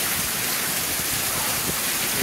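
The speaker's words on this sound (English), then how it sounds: "Look at the rain coming up to my door." Heavy thunderstorm rain at Lake Havasu pours down in a dense, continuous hiss, steady and loud, with no voices.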